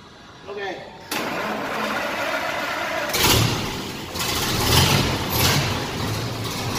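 A 1931 Pirsch truck engine cranks and catches, then settles into a loud, rough idle with a couple of revving surges. Voices talk faintly under the engine.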